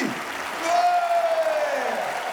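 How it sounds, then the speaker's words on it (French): A stadium crowd at a stand-up comedy show applauding steadily, a broad wash of clapping that swells slightly midway, with a faint tone gliding through it. "Tout le monde t'applaudit."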